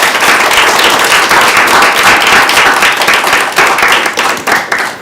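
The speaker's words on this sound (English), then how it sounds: "let's give Sitara one more round of applause." A symposium audience applauds loudly and continuously, dense clapping from many hands filling the room for several seconds before tapering slightly at the end.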